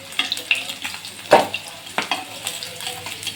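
Katla fish belly pieces frying in hot oil give a thin continuous sizzle, broken by a few louder clinks and scrapes as the fried fish is lifted out of the pan.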